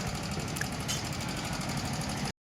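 A motorcycle brought in for service runs with a steady, moderately loud engine drone and a rough, knocking texture, then cuts off abruptly.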